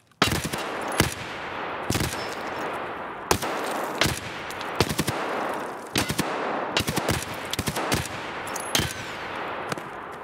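Repeated gunfire in the video game Escape From Tarkov: sharp, loud shots in uneven bursts and single cracks spread across the whole stretch, with no talk over them.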